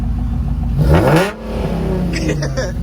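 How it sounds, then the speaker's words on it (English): A car engine at a meet by Tempe Town Lake revs loudly with a rising sweep, then drops back to a steady idle rumble, close by with voices talking over it. "give it a little rev like you always do"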